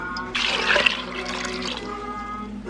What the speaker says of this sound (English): I'll put in a little bit more water.